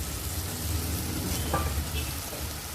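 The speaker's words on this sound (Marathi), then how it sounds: "त्या आपण तेलावरती सर्वप्रथम परतून घ्यायचे" Mixed vegetables, including field bean and pigeon pea seeds, flat beans and tubers, sauté in oil for a Bhogi vegetable dish. A soft, steady sizzle plays alone, with a faint stir partway through.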